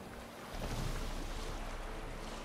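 A boat in The Witcher 3 strikes a wave: a broad whooshing surge of water and wind swells in after a quiet half second, then holds steady as a dense, rushing wash.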